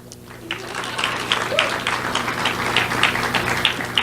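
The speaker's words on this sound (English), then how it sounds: "A few more Muslim men were hesitantly clapping." A few people in a conference audience clap hesitantly and unevenly, the sparse claps building a little over several seconds at moderate distance with a faint murmur behind.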